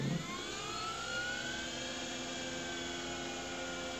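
An old Seagate IDE hard drive spinning up at boot, a steady rising whine with layered tones that climb in pitch and then hold, close and continuous after a short thump at the start.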